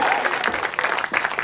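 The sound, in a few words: audience applause in radio studio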